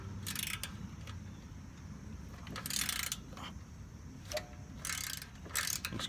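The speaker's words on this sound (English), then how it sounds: "Fits right on there, and then it ratchets." A ratchet wrench clicks in several quick bursts while working on a lawn tractor, close and crisp, with short pauses between strokes against a quiet outdoor background.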